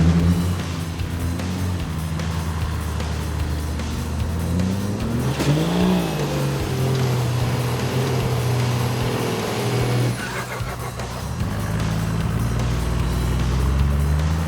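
A four-wheel drive, the mighty 80, climbs a rough high country track in Victoria with front and rear lockers engaged. The engine drones and revs steadily under load, swelling and easing as it crawls up and through.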